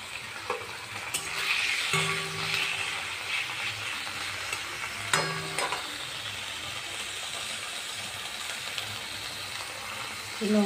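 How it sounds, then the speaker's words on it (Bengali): Chicken pieces frying in oil before being made into pakora, a moderate continuous sizzle broken by clattering stirs and a few sharp utensil knocks, close by with no voices. "প্রথমে আমি চিকেনটাকে পকোড়ার জন্য চিকেনটাকে ভেজে নেব"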